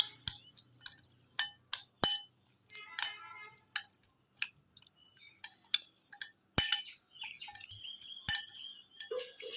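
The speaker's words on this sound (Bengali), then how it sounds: "এবারে দিয়ে দিচ্ছি টক দই এটা ভালো করে আগে মিঠে নিই" Sour yogurt is whisked for raita in a bowl, a spoon clinking and tapping against the sides in irregular bursts, close up and fairly quiet. No voices are heard.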